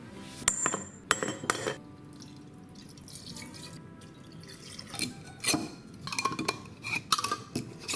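Glass jars clink and tap against each other and a hard surface while being filled with sourdough whiskey and small wood chunks, scattered sharp knocks with a few dripping sounds, close and alone.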